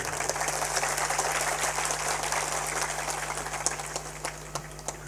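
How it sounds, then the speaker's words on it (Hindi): An audience claps together in a steady, dense patter of applause that holds evenly and fades slightly toward the end, heard at moderate distance over a low steady hum, with no talking. "थोड़ा तालियां भी जोर से बजाया करो, तुम्हारी तालियां बेजान है"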